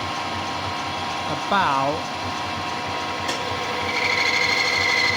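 A chamfer tool cuts metal on a part for a handmade AJS chopper with a Suzuki GS500 engine: a steady machine drone runs throughout, a voice speaks briefly, and a thin high-pitched cutting whine rises near the end.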